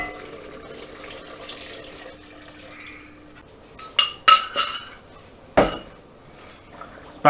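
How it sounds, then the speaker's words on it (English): Lamb stock poured into a pot of khashlama, a soft liquid splash and trickle followed by a few sharp clinks and knocks of the pot or container, close and fairly quiet, with no talking. "Next we add some lamb stock."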